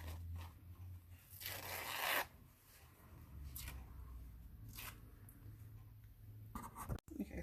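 A paper tea bag is ripped open for a Christmas junk journal craft, giving a bright tearing burst near the start and a few shorter rips after, close and fairly quiet with faint rustling between.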